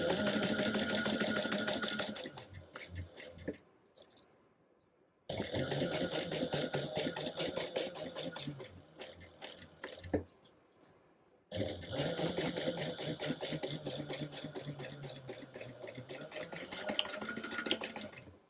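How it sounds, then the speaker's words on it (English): A sewing machine stitching a 3/8 inch seam on a crossbody bag piece, running in three long steady bursts with short pauses between. "go ahead and sew that together with a 3/8 inch seam allowance"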